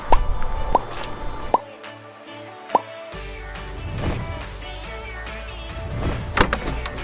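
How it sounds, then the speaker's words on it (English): Two clips are undone on a RadMini electric bike and the frame is lifted, with sharp plastic clicks early on, then clunks, rattles and handling noise, close up with no speech. "So there's two clips that you have to undo, and then you lift."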